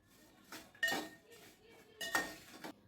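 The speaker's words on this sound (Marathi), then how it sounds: "हे सगळं व्यवस्थित हलवून घेऊया." Potato curry stirred in a metal pot with no added oil, a few scraping clinks of the spoon against the pan in short bursts, fairly quiet.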